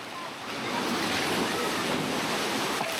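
Ocean waves wash and splash continuously at Maya Bay in the Phi Phi Islands, a loud, steady broadband roar of surf swelling after a brief softer start, with some wind buffeting the microphone.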